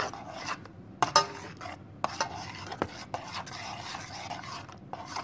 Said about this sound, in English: now we're gonna mix. mix up the oatmeal real good.